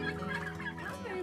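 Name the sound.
Bourbon Red turkeys gobbling on a farm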